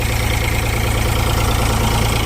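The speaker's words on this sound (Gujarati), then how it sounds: "આ ટ્રેક્ટર ચાલુ છે" A tractor engine runs during the wheat harvest on a farm, a loud, close, unbroken idling rumble with a steady low throb.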